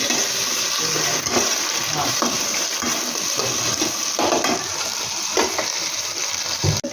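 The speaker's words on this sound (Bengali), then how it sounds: "এবার এটাকে ভালো করে ভাজাটা করব" Vegetable fried rice with sauces sizzles and hisses steadily in a pan, with intermittent scraping and stirring strokes close up and no talk.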